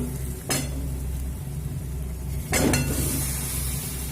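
Eggs and potatoes, fried beforehand, sauté in a spice masala with salt over a medium flame in a pan, giving a steady close sizzle with two brief bursts of stirring and pan scraping.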